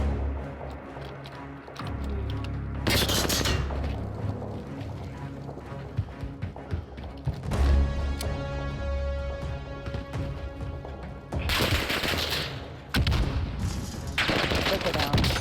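Video game gunfire in Rebirth gameplay: repeated bursts of shots and automatic fire come in several loud clusters across the clip, with quieter stretches of game sound in between.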